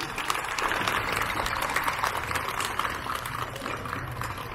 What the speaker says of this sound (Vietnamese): Xin cộng đoàn cho một tràng pháo tay